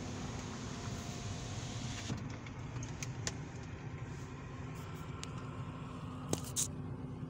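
A car drives slowly around a housing estate, heard from inside as a steady low road rumble and hum with a few faint clicks and rattles.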